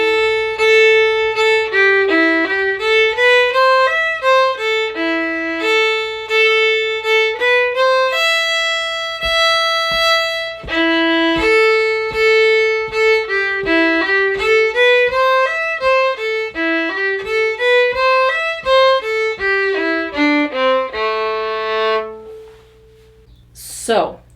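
The B part of a bluegrass tune is played as a bright, continuous solo melody, with quick running note patterns and a few longer held tones, close and clear with no talking.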